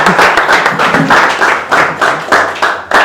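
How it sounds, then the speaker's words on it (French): An audience applauds a coach at a French-language business talk on growing digital sales, loud, steady clapping that rises and falls in waves throughout, with no talk over it. "On va applaudir pour le coach, s'il vous plaît."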